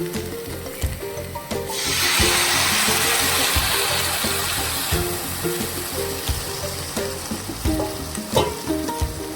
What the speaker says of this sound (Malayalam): ഇനി അല്പം വെള്ളം ഒഴിച്ചു കൊടുക്കാം.